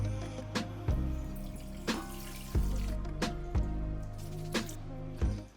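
Warm water running and splashing into a bowl of flour for a soft Turkish acma dough, a steady close trickle broken by several brief sloshing bursts, with no talking.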